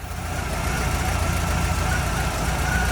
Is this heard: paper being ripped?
no